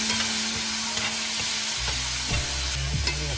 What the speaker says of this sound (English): Let's get our great pre-cooked vegetables back into the pan.